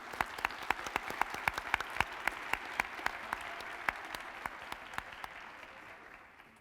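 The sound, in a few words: round of applause for judges and sheriff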